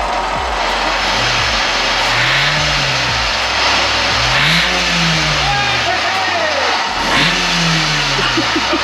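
Car engine revving hard after a nitrous purge, with repeated loud rising and falling throttle blips in three long surges, close up, while people talk nearby.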